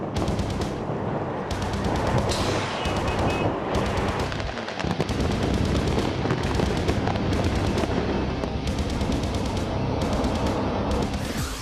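Explosive charges bring down an L-shaped concrete building, a loud rapid chain of blasts and cracks fired in timed delay sequence, followed by a rumbling roar of collapsing structure.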